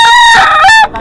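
A young gamecock stag gives one short, loud, close crow that rises and falls in about a second.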